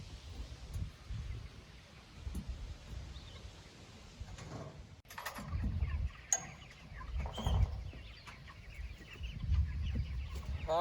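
Baby chickens cluck and peep softly nearby, scattered calls over quiet rustling and low background noise, with a few sharper clatters in between.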